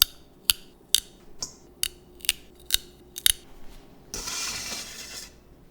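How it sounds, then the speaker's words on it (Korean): Scissors snip tough stems and yellowed leaves off fresh mugwort, about eight crisp separate cuts in an uneven rhythm, close and clear, ending in a brief rustle of the greens being handled. "누렇게 뜬 잎을 제거하고 질긴 밑동을 잘라줍니다."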